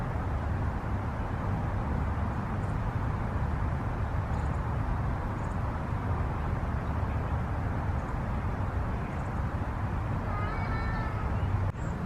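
Faint meows from a feral cat come through a constant rumbling background. A few short calls surface near the end, soft and somewhat distant.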